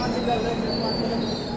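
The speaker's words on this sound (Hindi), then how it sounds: "यहाँ पे 9:10 पर अपनी ट्रेन निकल रही है मालदा टाउन रेलवे स्टेशन से" A passenger train pulls out of Malda Town railway station in the evening, giving a steady rumble and rail noise with a thin, high wheel squeal running throughout, close and continuous.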